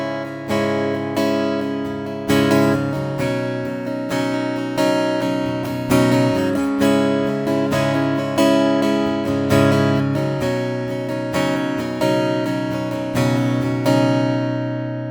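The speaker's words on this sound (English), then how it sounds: "that is the sound of just a magnetic pickup right here" An acoustic guitar with a Fishman Rare Earth magnetic soundhole pickup strums two chords over and over in a steady rhythm. The strumming is close and fairly loud, with ringing, bright strings and no voice.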